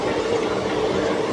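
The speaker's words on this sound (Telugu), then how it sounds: "గోదావరి బ్రిడ్జ్లోకి వెళ్ళిపోతున్నాం అనమాట" The 17644 Kakinada–Chengalpattu Circar Express rolls onto the Godavari bridge, heard from inside as a steady, close, broad rumble of wheels and carriage.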